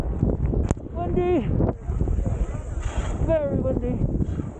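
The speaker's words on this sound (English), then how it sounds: "Very windy." Strong wind buffets the microphone in a steady low roar at the Beijing Winter Olympic ski venue, with people talking over it.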